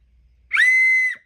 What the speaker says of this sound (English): close your ears, please, if you don't want to hear a shrill whistle